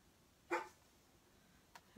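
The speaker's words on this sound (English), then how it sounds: "now the dog is gonna flip." A dog gives one short, sharp bark nearby, followed by a faint second yip in an otherwise quiet room.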